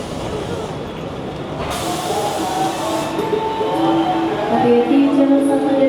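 Steady rumble and rattling of a passenger train running on double track in Indonesia, with rising mechanical hum and tonal squeals building toward the end.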